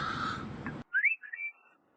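A person whistles to imitate a bird call, a couple of short, bright rising and falling chirps, close and alone in quiet after background noise cuts out.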